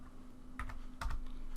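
Short burst of a few computer keyboard keystrokes entering a network command, close and distinct over a steady low electrical hum, no speech.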